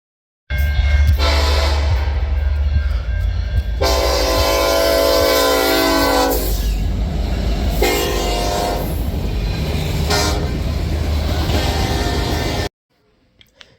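A Canadian National freight train rumbles past close by, its horn sounding in long loud blasts over the steady roar and clatter of the cars, then cutting off abruptly.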